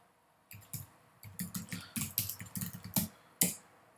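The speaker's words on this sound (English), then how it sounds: "just type in your data" Data being typed on a computer keyboard into a spreadsheet, a close run of quick, uneven key clicks with brief pauses, alone without talk.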